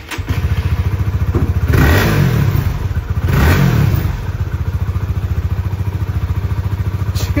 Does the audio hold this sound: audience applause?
no